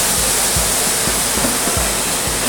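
Hissing steam burst off a hot griddle burger as water is squirted on, a loud continuous spray-like rush with faint rhythmic thumps beneath.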